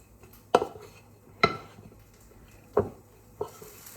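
Halloumi, peppers and chorizo are stirred in a pan with four separate utensil knocks and scrapes, close and fairly soft, over quiet background.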